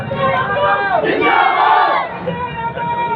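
A dense village rally crowd roars with cheers and shouts, loud and sustained, voices swelling into a peak and then settling back into a steady clamor.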